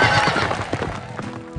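A cartoon horse in the farming game Hay Day whinnies loudly over quick galloping hoofbeats during a Derby race scene, close and clear with no talk over it.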